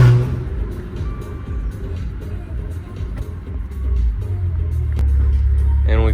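A rebuilt, previously wrecked Maserati drives along with repaired brakes, its engine a low rumble that swells toward the end beneath faint background noise.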